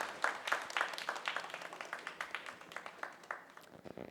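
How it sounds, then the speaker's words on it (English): Scattered audience applause at a physiotherapy symposium, fairly faint and a little distant, with a brisk irregular patter of claps that thins out over about four seconds. "Give a big round of applause,"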